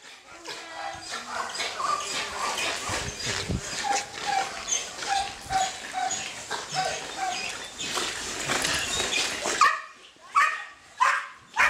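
A mine detection dog barks again and again in short, loud yips and bow-wows at close range. A few whimpers are mixed in, and a voice talks in the background.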